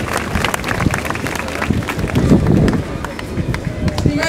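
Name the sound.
audience applause at a square inauguration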